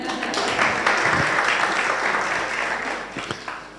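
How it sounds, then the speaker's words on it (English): An audience applauds at a memorial lecture for a judicial figure, a dense, steady wash of many hands clapping that holds for several seconds before thinning toward the end, with no voices over it. "Ladies and gentlemen, this is where you clap."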